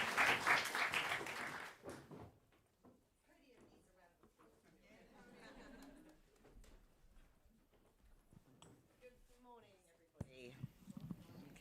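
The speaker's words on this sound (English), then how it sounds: "Give her a round of applause." A loud burst of audience applause at a James Beard Foundation and Food Tank chefs' gathering dies away after about two seconds, then a speaker talks at a podium.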